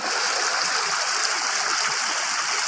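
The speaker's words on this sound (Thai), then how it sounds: "น้ำตกวัดถ้ำเหล็กพี่น้อง" Water rushes steadily down a tiered waterfall with pools at Wat Tham Lek in Thailand, a constant close-up roar and splash with no voices.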